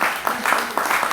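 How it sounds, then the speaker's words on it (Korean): An audience claps to welcome a speaker to the stage at an event, a brief burst of dense, moderately loud applause with a few sharper claps rising out of the steady patter. "우리 권순도 박사님 다시 한번 박수로 맞아주시기 바랍니다."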